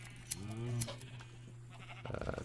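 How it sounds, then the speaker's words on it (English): A sheep bleats once in Minecraft, a short wavering call over a steady low hum, followed by a brief burst of quieter shuffling noise. "there's sheep here"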